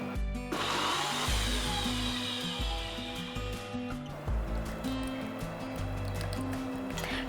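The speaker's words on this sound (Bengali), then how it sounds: "সামান্য একটু জল দিয়ে এটাকে বেটে নেব" A mixer grinder whirs steadily, blending coconut, chopped tomato and a green chili with a little water, its motor hum wavering slightly as the load shifts.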